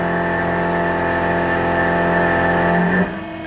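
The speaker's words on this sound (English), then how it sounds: "it may just be the spindle bogging down" A CNC mill spindle cuts steel and may be bogging down, giving a loud, steady tonal whine and hum with layered harmonics that shifts and drops near the end.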